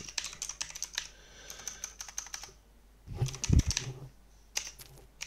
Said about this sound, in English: So I'm just typing a message out this chat.